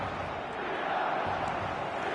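Stadium crowd noise in the EFL2026 football video game, a steady, dense roar of many voices filling the whole stretch at an even level with no commentary over it.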